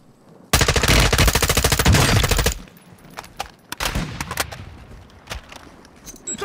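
Rapid automatic gunfire from Call of Duty Warzone rattles loud and close in a sustained two-second burst, followed by scattered single shots and distant pops.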